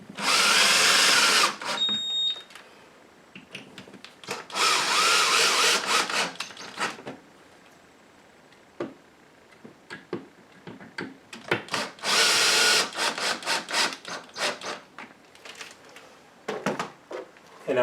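Power screwdriver driving screws into molly anchors in a wall to mount a coat rack, loud whirring bursts of a few seconds each, separated by quieter handling and scraping sounds.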